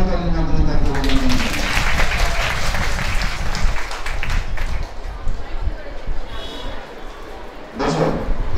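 Sustained audience applause honours the best speaker at a school environmental-protection discussion and competition, dense clapping throughout with a crowd murmuring beneath and a brief louder burst near the end.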